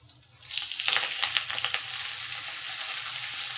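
Washed gongura leaves drop into hot oil in a kadai and erupt into a loud sizzle with crackling spatters, then settle into a steady frying hiss, with no talk.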